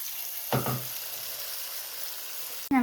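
Unniappam batter sizzles in hot oil in a pan, a soft steady frying hiss with a short clatter near the start and another brief knock at the end.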